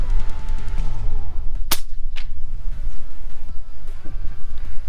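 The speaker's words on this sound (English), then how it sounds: "get ready for the shot, and as they land, just take the shot." An FX Dreamline GRS air rifle fires a 21-grain pellet while hunting, a single sharp crack followed by a second faint report, over steady loud outdoor background noise.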